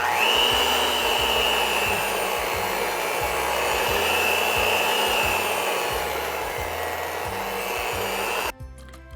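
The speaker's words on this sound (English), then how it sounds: "Now let's mix it for about a minute." An electric hand mixer whirs steadily and loudly through pumpkin torte batter, a continuous motor drone with a slight rubbing texture that runs nearly the whole time before cutting off abruptly near the end.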